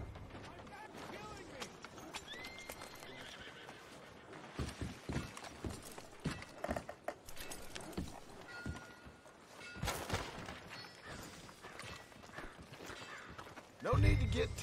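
Horse hooves clop in Red Dead Redemption 2 as the animal is walked and brought to a stop, a run of soft, uneven hoof beats at moderate distance with a louder thump near the end.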